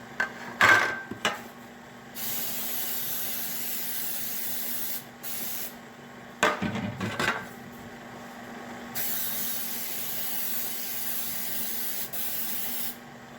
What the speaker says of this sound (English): I'll spray the bottom and the sides.